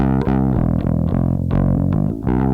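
Bass guitar played through a JHS Packrat distortion pedal, a thick saturated growl in a series of punchy, sustained notes that fill the short passage without pause.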